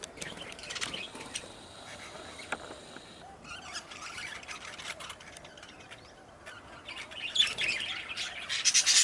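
Backyard birds squawking around a newly built birdhouse, harsh calls and scattered chirps at moderate distance, growing louder and busier toward the end over outdoor background noise.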